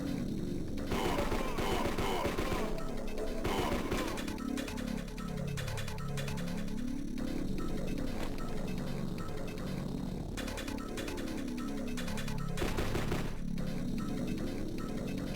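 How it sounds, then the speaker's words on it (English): Warning shots in kill.switch on the Game Boy Advance, a few loud bursts of game gunfire set against a repeating chiptune soundtrack, the heaviest near the start and again late. "Just firing a couple warning shots to see if anyone pops out."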